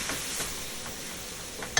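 Pepper steak with lo mein sizzling as it is stirred in a hot wok, a steady hiss with faint scraping and a sharp clink near the end.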